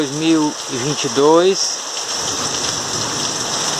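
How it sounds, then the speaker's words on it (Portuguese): Heavy night rain during a storm in Reriutaba, Ceará, a steady dense hiss of downpour that continues after someone speaks briefly over it at the start. "é chuva, muita chuva"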